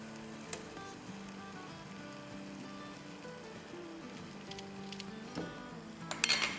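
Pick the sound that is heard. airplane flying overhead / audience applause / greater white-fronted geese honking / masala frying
masala frying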